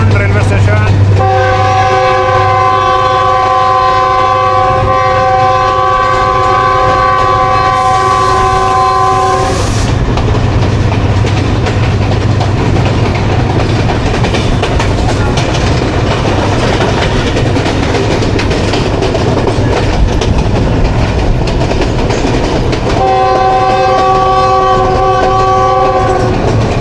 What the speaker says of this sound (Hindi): आ गया खैराबाद कुंड रेलवे स्टेशन।